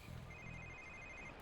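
A cell phone rings in the Xbox 360 game 007 Quantum of Solace, a thin electronic ringtone warbling steadily over low game background noise.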